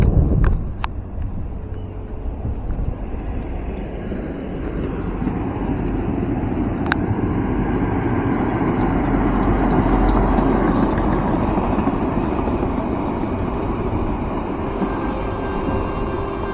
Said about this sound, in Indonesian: kita lihat penampakan kereta api melintas di bawah jembatan layang tol Padang Cincin ini